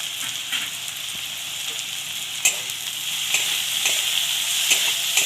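Ground spices (salt, roasted cumin, red chilli, turmeric and roasted coriander powder) sizzle steadily in a hot pan while being stirred, with soft scraping clicks from the spoon breaking through the constant frying hiss.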